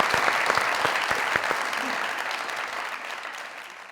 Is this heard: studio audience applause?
yes